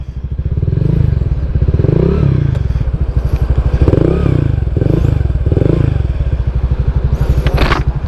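A Honda Vario 150 scooter on a test ride, its engine a close, rhythmic low thrum that swells and eases with the throttle, joined by rattles and a brief sharp clatter near the end.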